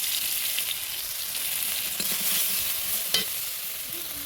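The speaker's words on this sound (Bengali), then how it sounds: "টমেটোটা ভালো করে একটু ভেজে নেবো, নুন দেবো, কেটে রাখা আদা রসুন বাটাটা দিয়ে দেবো" Tomato fries in a wok with salt and ginger-garlic paste, a steady close sizzle with a few soft spatula stirs and scrapes, no voices.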